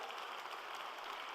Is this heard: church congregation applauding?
yes